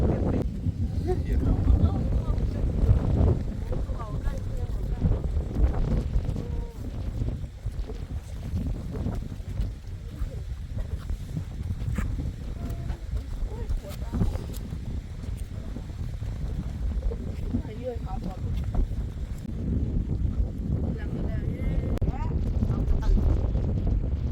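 Cold dry wind buffeting a microphone at a high clifftop on the Thai–Lao border, a steady low rumble with gusty swells throughout, and someone talking over it.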